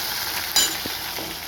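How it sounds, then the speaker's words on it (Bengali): Fish frying in a pan in a home kitchen, a steady broadband sizzle with a brief sharper crackle partway through, no talking. "এই যে এখানে মাছ ভাজছি।"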